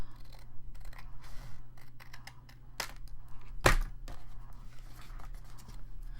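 Scissors cut paper for a bee-themed folio, making a few scattered close snips and one louder sharp cut partway through. Quiet handling noise sits under them and no one talks.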